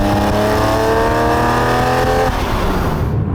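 A Manthey Racing Porsche 911 996 GT3 Clubsport with a 400 bhp engine revs hard toward redline, its loud, close mechanical howl climbing steadily in pitch before cutting off sharply.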